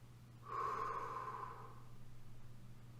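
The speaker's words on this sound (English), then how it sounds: "breathe out for a count of 4" A slow, steady breath pushed out through the mouth during a calming exercise, a soft airy rush lasting about a second before fading into a low steady hum.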